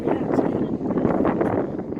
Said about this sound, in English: Windy and bouncy.